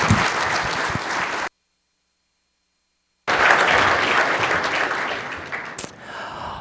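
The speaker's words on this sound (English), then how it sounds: "Give him a warm round of applause." Audience applause for a speaker at a Python graph processing talk: a sustained burst of clapping, a stretch of near silence, then a second strong burst that fades toward the end.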